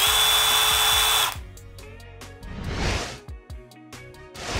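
A Milwaukee M12 FID 12V impact driver runs at high speed for over a second, then stops. Shorter bursts of clicks and whirring follow as the screw is driven, close up with no speech.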